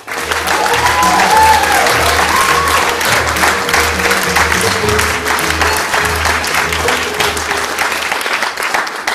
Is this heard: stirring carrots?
no